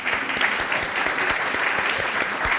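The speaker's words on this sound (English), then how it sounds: "Take a minute to clap for yourself." A crowd at an occupational therapy white coat ceremony applauds in a steady, dense burst. Individual hand claps stand out close by against the general ovation.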